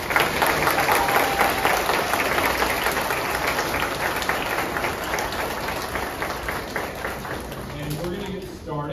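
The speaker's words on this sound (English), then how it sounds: "Give them a round of applause." Applause from an audience at a first grade awards ceremony, dense clapping sustained at steady volume, fading slightly toward the end as a voice begins to speak.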